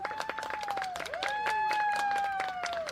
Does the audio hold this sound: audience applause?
yes